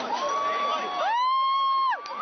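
Crowd of teenage partygoers at a raging suburban party, shouting and whooping loudly, with a long sustained yell rising above the general din of voices.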